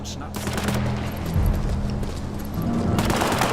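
Rapid gunfire bursts in the video game War Mongrels, sustained automatic shots crackling through the scene while a voice speaks under the battle noise.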